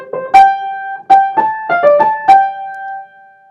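A short excerpt of a theme: a handful of bright, sharply attacked notes in a quick rising figure, with the last tone ringing and decaying clearly over about three seconds, no voices.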